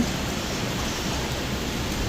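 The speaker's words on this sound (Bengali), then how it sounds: "এই দেখুন বন্ধুরা বৃষ্টি চালু হয়ে গেছে আবার" Rain falls in a steady, even hiss, a soft continuous wash of sound at moderate distance with no voices over it.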